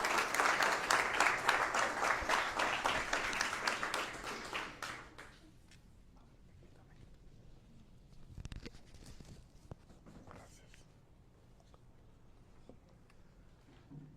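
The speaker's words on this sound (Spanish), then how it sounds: "Bienvenido, le brindamos un fuerte abrazo, un fuerte aplauso al padre Ugalde." Audience applause welcoming a priest at a gathering, a dense burst of many hands clapping loudly for about five seconds, then fading out into quiet room ambience with a few stray claps and shuffles.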